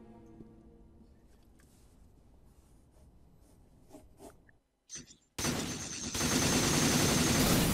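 A pistol shot to the head in the video game Devil May Cry 4: after a quiet stretch, a sharp, close bang cuts in, followed by a loud, sustained wash of noise.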